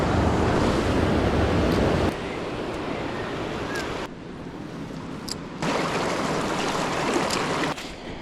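Water of a clear creek flows steadily close by in a broad, continuous rush, briefly dropping quieter midway before swelling back, with some wind noise and no speech.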